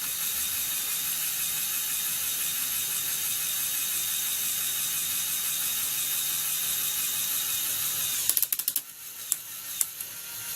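Small Lego motor whirs steadily as a Lego container truck tips its container back to dump, then sharp ratcheting clicks and rattles break in near the end, close and fairly quiet.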